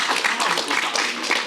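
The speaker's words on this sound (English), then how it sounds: "You can give him a round of applause." A lecture audience breaks into brief, dense applause, a steady wash of many hands clapping together at close range.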